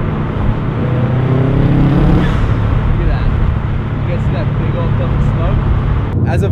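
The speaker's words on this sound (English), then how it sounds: "I'll downshift here. As soon as I gas it," Subaru WRX Bugeye with a 6-speed swap pulls hard after a downshift on a downhill road, its engine a steady loud low drone mixed with road and wind rush throughout.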